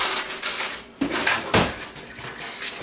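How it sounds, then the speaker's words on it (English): A whisk clatters against a bowl as flour, smoked paprika, salt and pepper are mixed together, giving quick metallic scrapes and taps with a couple of sharper clinks, close and fairly loud. "whisk that together"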